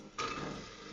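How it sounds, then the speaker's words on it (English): Chopped onion dropped into hot olive oil in a Hawkins 3-litre pressure cooker, a sudden close hiss that rises at once and then holds as a steady crackling sizzle. "That oil's nice and hot, so we're gonna add our onion"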